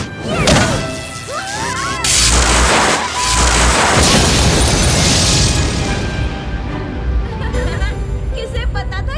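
Cartoon fireworks burst in several loud booming cracks and crashes, with whooshes and a crackling tail fading out, mixed with brief cartoon voices.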